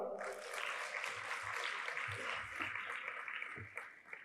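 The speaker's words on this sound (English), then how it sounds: "Let's give them a clap." An audience at an awards ceremony claps to welcome an organization's representative, a moderate wash of applause with low voices murmuring beneath it, tapering slightly toward the end.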